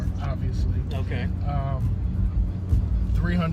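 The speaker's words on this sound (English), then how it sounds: "we're driving right now in the BMW 3 Series" Engine and road rumble inside a BMW 3 Series 328i sports car while driving, a steady low drone under people talking close by.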